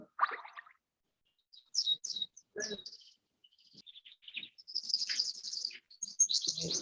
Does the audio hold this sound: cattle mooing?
no